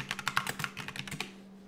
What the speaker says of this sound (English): Apologies for the loud keyboard.